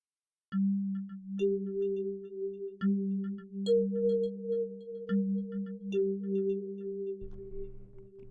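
A clean electronic synth tone holding steady notes that step between pitches, with light bell-like overtones, playing alone without voices.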